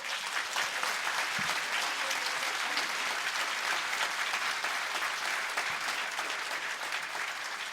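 A church congregation applauds together in steady, dense clapping that fills the room at full loudness, continuous from start to end with no voices standing out.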